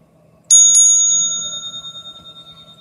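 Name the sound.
bell being struck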